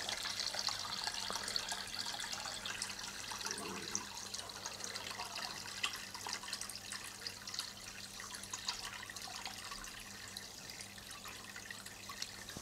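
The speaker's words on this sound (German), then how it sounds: "ich habe jetzt die Box ordentlich volllaufen lassen" Tap water runs steadily into a box being filled for cleaning a Juwel Bioflow aquarium filter, a faint continuous splashing hiss with no speech.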